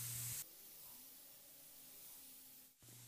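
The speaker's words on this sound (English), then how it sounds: "We'll put a medium coat of paint over the primered areas only." A 3M spray gun set wide open at 20 PSI lays a medium coat of base paint over primered areas of a car, a steady close hiss that starts and stops abruptly.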